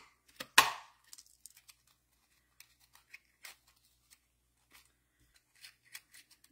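Scissors trimming paper pieces for a paper-pieced quilt block: one sharp close snip, then a scattering of small quiet clips and paper rustles in near silence.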